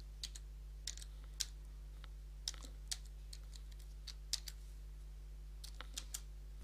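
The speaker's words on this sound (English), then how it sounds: "Now type in your new password" Keystrokes on a computer keyboard as a new password is typed, a dozen or so light, irregular clicks over a steady low electrical hum, with no talking.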